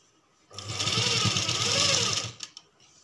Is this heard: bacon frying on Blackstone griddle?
no